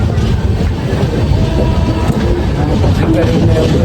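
A train on the way to Haridwar rolls along the tracks, heard from on board as a loud, close, continuous rumble with rhythmic wheel clatter and metallic rattles.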